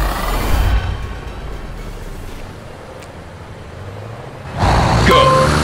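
Hybrid Dakar rally truck from the Dakar Desert Rally game, its engine droning steadily at racing speed with a low rumble, then swelling louder near the end with a higher whine.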